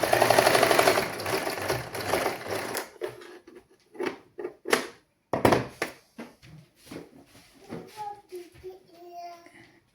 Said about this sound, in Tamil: இதில் நான் வந்து இனி தையல் போட போகிறேன்.